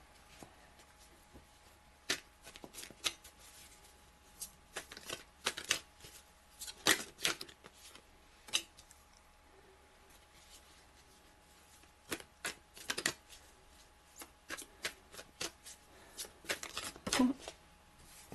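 Tarot cards being shuffled by hand, giving a run of soft, crisp riffles and snaps at an uneven rhythm, fairly quiet and close with a low steady background hum.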